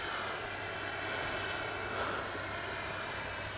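A Freewing T-33 80mm electric ducted-fan RC jet flies by with a steady, high-pitched whine and broad rushing roar, moderately loud and constant, with no talking.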